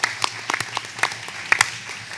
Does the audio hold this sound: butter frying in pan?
no